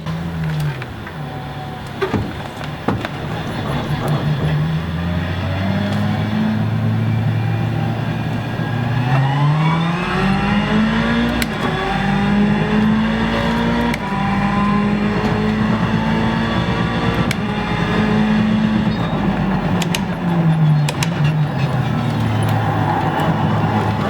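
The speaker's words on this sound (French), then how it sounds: "Je suis dans les stands de Monza avec la Ferrari 488 GTE." Ferrari 488 GTE race car engine in a racing video game at Monza, idling then revving in long sustained pitch rises and falls, loud and close, with no talking.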